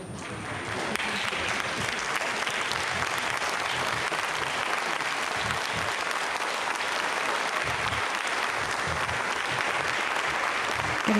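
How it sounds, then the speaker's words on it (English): Staff in the mission control centre applaud after a Vega-C rocket launch of the Sentinel-1C satellite from French Guiana. Steady, even clapping rises after the first second and carries on without a break for about ten seconds. "Getting some clapping here in the Mission Control Centre."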